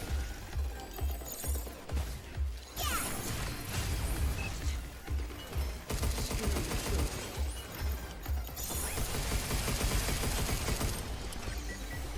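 Gunfire in the video game Pragmata: dense, continuous bursts of shots mixed with crashes and mechanical effects, loud and busy throughout with short gaps.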